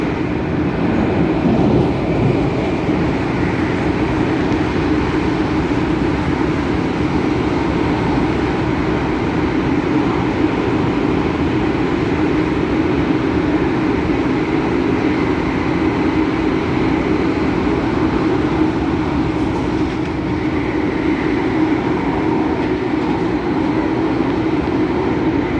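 MTR Tung Chung Line A-Train running from Tsing Yi toward Sunny Bay, a steady loud rumble and hum of the carriage in motion with constant wheel and motor noise, no voices.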